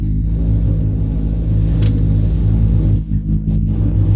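A car engine is held on the gas while the handbrake keeps it on a hill, giving a loud, steady low rumble that dips briefly near the end.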